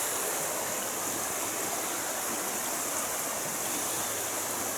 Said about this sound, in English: Listen to the river, listen to the birds